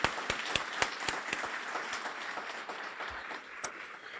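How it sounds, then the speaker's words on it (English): Audience applause at a guide dog graduation ceremony for puppy raisers, sharp individual claps at the start settling into steady, fairly faint clapping from a crowd over about four seconds. "Big round of applause for our raisers."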